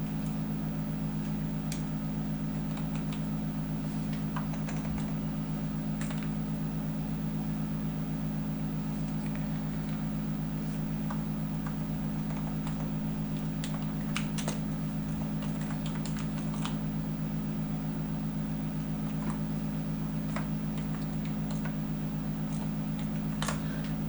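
Fingers typing a name and email address on a computer keyboard, scattered light key clicks in irregular runs over a constant low electrical hum, with no voices.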